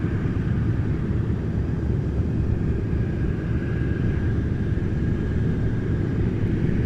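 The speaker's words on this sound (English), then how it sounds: "the sound you're hearing right now, the sound of some vintage engines" The vintage piston engines of a Douglas DC-6 airliner drone steadily on the move at Anchorage airport in Alaska, a constant loud rumble with no pauses and no talk.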